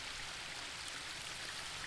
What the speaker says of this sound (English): A waterfall.